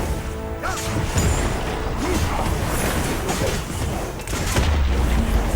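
Crashing and smashing as a turret is destroyed in the mobile game League of Legends: Wild Rift, a dense loud clatter of impacts and booms over busy game effects, sustained throughout.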